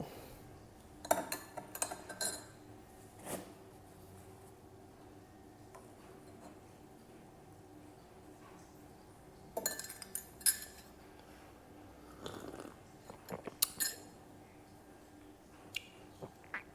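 A spoon stirs a stevia-sweetened drink in a glass, making light, intermittent clinks and taps that come in scattered bursts against a quiet room.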